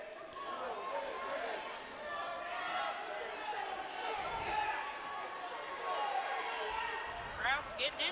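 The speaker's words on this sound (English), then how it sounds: "Crowd's getting into it a little bit, trying to aid White to a victory" Crowd noise rises through the arena during a Big Ten college wrestling bout between Rutgers and Nebraska at 165 pounds, a steady roar of chatter and cheering that swells at times, with a commentator speaking over it.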